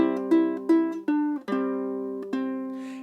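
Ukulele chord melody in C, a handful of quick plucked notes and strummed chord hits with ringing sustain, played close and clear with no talking.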